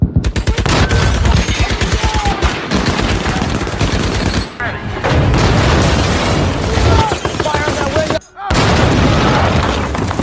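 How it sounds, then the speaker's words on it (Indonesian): Gunfire from a World War II tank film firefight against German troops, dense bursts of shots and booms running loud and continuous throughout, with a brief drop near the end. "Dan kemudian, terjadi baku tembak dengan pasukan Jerman."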